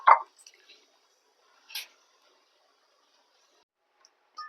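Washed mutton pieces drop into an iron kadai with short wet squelches: one at the start, another a couple of seconds later, and a third at the very end, separated by silence.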